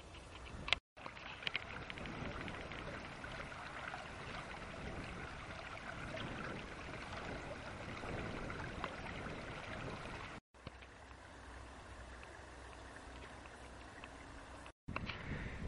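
A winding stream flows steadily through marshland, a continuous soft rush and trickle of water with a few brief breaks in the sound.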